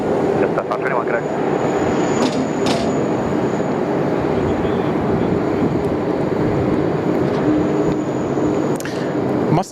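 A Sri Lankan Airlines Airbus A330-300 jet at Sydney Airport gives a steady, broad engine roar, loud and sustained throughout, with brief bursts of radio chatter and talk faintly over it.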